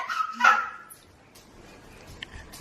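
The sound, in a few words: dog barking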